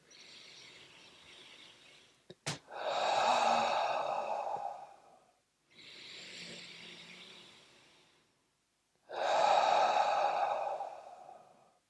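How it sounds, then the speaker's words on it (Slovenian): Deep, slow breathing, drawn in through the nose and let out through the mouth with a soft sigh of relief, as several long, close breaths with pauses between them. "vdih pa izdih sta približno enako dolga, s tem, da pri izdihu spustim skozi usta zvok olajšanja"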